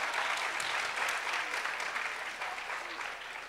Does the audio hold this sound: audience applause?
yes